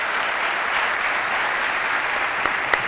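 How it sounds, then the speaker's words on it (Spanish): A live audience applauds after a talk, giving a steady, dense wash of clapping that holds at an even level throughout, with no voices on top. "un fuerte aplauso para Toni Vilquerella"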